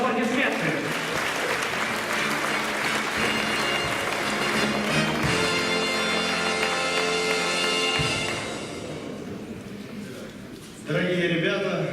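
Applause fills a hall at a ceremony honouring top graduates of 2016/2017, sustained and dense with music playing alongside, fading briefly before swelling again.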